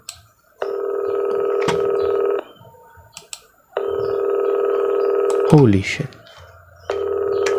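A telephone rings in a horror video game, in long buzzing ring bursts separated by pauses, loud and close. Someone speaks briefly between the rings.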